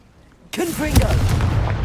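A Confringo fire spell blasts in the video game Hogwarts Legacy: after a brief quiet moment comes a sudden loud burst with a whooshing, sweeping tone, then a rolling fiery rumble that lingers.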